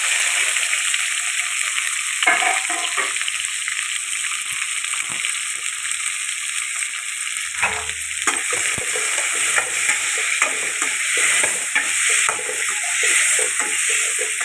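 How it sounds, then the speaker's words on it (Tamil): Chopped big onion, garlic and tomato sautéing in coconut oil for a fish curry, a steady close sizzle with stirring scrapes throughout, no talking. "தேங்காய் எண்ணெய் ஊற்றிட்டு இங்கே பாருங்கள், பெரிய வெங்காயம், பூண்டு, தக்காளி எல்லாமே இது கூட சேர்த்துக்கிறேங்க"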